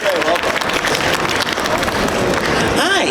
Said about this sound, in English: It's a great round of applause for this cosplay.